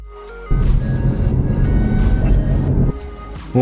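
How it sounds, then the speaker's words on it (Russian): Car driving on a patrol run by Pokemon GO players: a loud, steady engine and road rumble that fills the middle of the clip, dropping away near the end. "поедем на машине"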